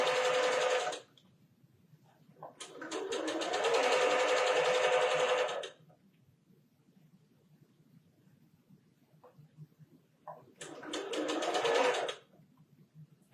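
Sewing machine stitching a quilt square for a disappearing nine-patch block, running in three bursts: a short one, a longer steady run of about three seconds, then another short run, with quiet pauses between.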